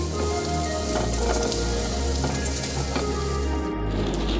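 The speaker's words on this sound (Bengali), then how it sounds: "আরেক পিঠ ভেজে নিচ্ছি এবার আমি ওপর দিয়ে হালকা তেল দিই" A paratha fries in a little oil in a pan, giving a steady, loud, close sizzle that crackles evenly throughout with no talking.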